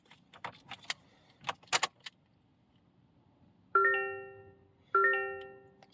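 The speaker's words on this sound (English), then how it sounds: "Starting my car up here" Car keys jangle in a few quick, close rattles, followed by two clear electronic chimes from the car as it is started with the keys; no engine noise stands out.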